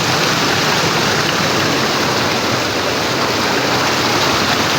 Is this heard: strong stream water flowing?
yes